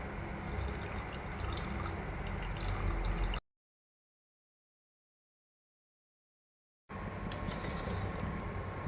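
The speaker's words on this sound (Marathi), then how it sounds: "मसाला व मटकी चांगला कलसल्यानंतर त्यात पाणी टाकायचे।" Water is poured into a pan of spiced sprouted moth bean (matki) bhaji in a steady, rushing stream, broken by a few seconds of silence before the pouring resumes, with no voices.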